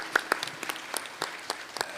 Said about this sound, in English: Please give a round of applause to the PSS.